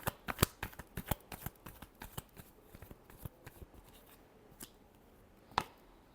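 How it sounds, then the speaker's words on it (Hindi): Tarot cards are shuffled close up in quick riffling slaps that slow and thin out toward the end, with one last sharp tap after a pause. "last shuffle"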